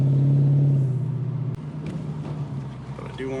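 Infiniti Q45 with a new 3.692 rear end driving uphill, a steady low engine drone that fades after the first second into road rumble, with a sharp bump midway.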